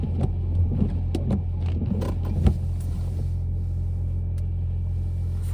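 Car driving through downtown Collingwood after a snowstorm, a steady low engine and tyre rumble from inside the cabin with a few faint clicks and thumps, continuous and without talk.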